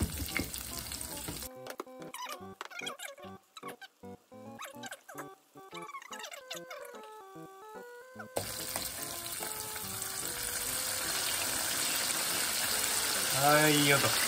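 Oil sizzles and crackles steadily as hand-shaped potato pieces fry in shallow oil, starting after a short musical passage and growing louder and denser toward the end.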